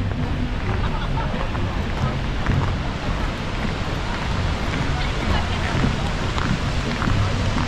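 Seljalandsfoss waterfall in Iceland, heard from within its splash zone: a constant heavy rush and spray of water, close and loud, mixed with blustery wind buffeting the microphone throughout.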